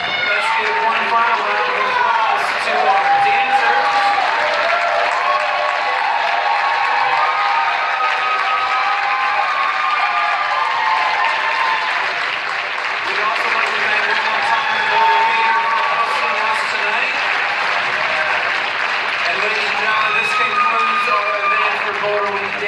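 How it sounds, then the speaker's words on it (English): A large crowd at the Dancing With Boulder Stars 2017 show gives sustained applause and cheering for the dancers, a loud continuous wash of clapping with voices and whoops mixed in throughout. "Let's give one final round of applause to our dancers."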